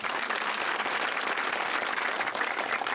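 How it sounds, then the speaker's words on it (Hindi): Steady, dense applause from a crowd at an outdoor election public meeting in a village in Shivpuri, India, sustained and fairly loud throughout without pause. "तालियों।"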